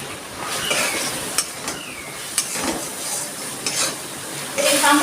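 Spice masala with cumin powder, salt and turmeric being stirred and fried in a pan for a chicken dish, giving a steady close sizzle with scraping spoon strokes and occasional clinks against the metal.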